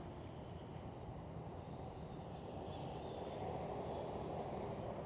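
An airliner taxis at Schiphol airport in Amsterdam, a continuous low engine rumble and roar heard from a distance outdoors with wind buffeting the microphone, no talking.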